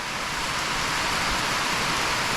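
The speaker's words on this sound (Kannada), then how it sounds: "ಬಟ್ ಮಳೆ ತುಂಬ ಜೋರಿದೆ" Heavy rain pouring down on a hill trek near Bengaluru, a dense steady hiss filling the air, close and loud, with no talking.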